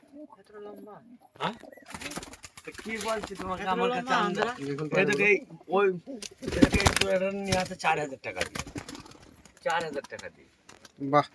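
Pigeons coo in low, throaty murmurs close by, blending with people talking over them; a loud rustle or clatter breaks in partway through.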